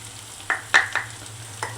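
Sesame seeds added to tomatoes frying in a pan, a soft steady sizzle with a few sharp crackling pops and stirring scrapes, close and alone, with a low hum underneath.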